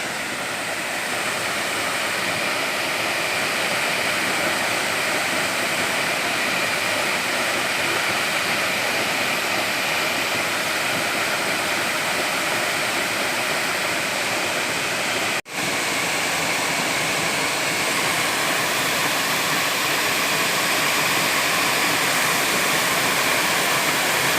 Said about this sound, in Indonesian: Ya, inilah air terjun